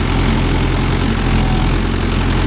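Mahindra Yuvo Tech Plus 585 4WD tractor with a new cultivator, its diesel engine running in a steady, loud low rumble at close range, with no talk.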